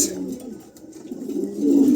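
Adult pigeons for sale at a market coo softly in low, throaty murmurs that swell toward the end, fairly close, under a voice.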